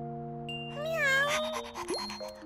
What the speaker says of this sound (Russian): Мяу. Это же Чока.